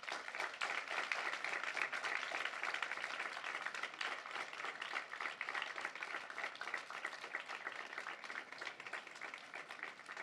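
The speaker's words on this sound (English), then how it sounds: "The class will now extend a round of applause as a gesture of thanks." High school graduates applaud together at a commencement ceremony, a continuous, even patter of many hands clapping in a large room, heard from some distance and fairly faint, with no speech over it.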